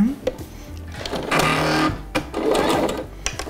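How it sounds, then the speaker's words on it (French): A sewing machine stitches a seam on a ruffled dress, short bursts of rapid mechanical whirring separated by pauses, close and clear. "je vais tout simplement venir piquer à la machine, on va dire à 1 cm du bord"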